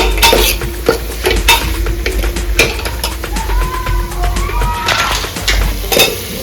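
A spoon stirs turmeric and coriander powder into a frying rice mixture of masala bhat with val beans, scraping and clinking steadily against the pot over a continuous close sizzle.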